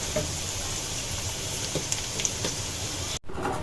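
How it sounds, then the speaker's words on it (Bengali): Onions with bay leaf, cinnamon, cardamom and cloves frying in oil, a dense, loud, continuous sizzle with a few light clinks, briefly cutting out near the end. "এখন তেলে কিছু পেঁয়াজ আর কিছু গরম মশলা দিয়ে দেওয়া হয়েছে"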